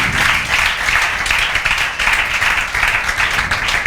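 A classroom of students claps loudly for a classmate who earned a rank in a test, a continuous close burst of dense applause with slight rhythmic surges and no talk over it.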